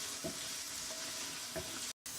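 Salted onions frying in a pan, a soft continuous sizzle with a few light stirring scrapes, fairly quiet, cutting out briefly near the end.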